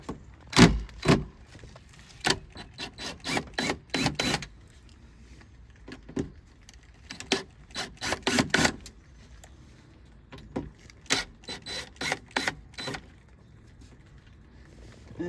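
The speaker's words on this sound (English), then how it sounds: "grab my impact driver just because it'll be a little faster" Cordless impact driver backing out screws from the interior door panel of a 2008 Pontiac Solstice GXP, heard as short repeated rattling bursts in close clusters with quiet gaps between them, no talking.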